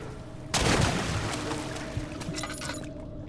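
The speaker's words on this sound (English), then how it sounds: "Water's begun to slowly fill the chamber." Water rushes and splashes into a flooding stone chamber in Amnesia: The Dark Descent, bursting in loudly and then pouring steadily with occasional clunks before cutting off.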